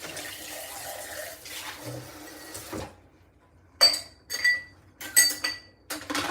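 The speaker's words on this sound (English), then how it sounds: "I'll just like clean them all, put the soap on them, and then rinse them all after" Dishes being washed by hand in a sink, a tap running steadily, then stopping, followed by close clinks and knocks of plates and cutlery being handled, with no talking.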